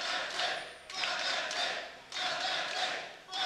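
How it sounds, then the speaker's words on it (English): A large crowd at a League of Legends esports match in the EU LCS cheers and roars in loud surging waves, swelling and dipping several times in quick succession. "Crowd is very enthusiastic"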